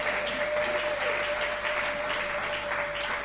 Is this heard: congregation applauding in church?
yes